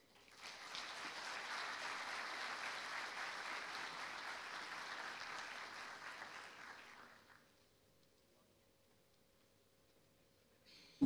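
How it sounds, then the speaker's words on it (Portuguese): An audience at an economics conference in Luanda applauds steadily for about seven seconds, dense clapping that then fades out, leaving quiet room tone. "Com vossos aplausos, Fernandes Luanda."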